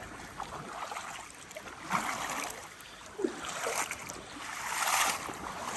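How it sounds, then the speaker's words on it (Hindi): Someone wades across a shallow forest stream in Almora, with steady splashing and rushing water close by and brief louder sloshes as each step breaks the surface. "back to the camera when I cross the stream again"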